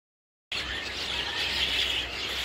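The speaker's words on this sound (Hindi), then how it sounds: "ये कलरव, इंशरा, परिंदों की आवाज़" Birds at dawn in Kodaikanal, a bright continuous layer of high chirps and twitters starting suddenly after a short silence and holding steady, close and fairly loud.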